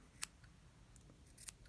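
Scissors snip through pom-pom yarn while trimming a bow-tie-shaped yarn pom-pom flower, two sharp crisp cuts spaced apart in a quiet room.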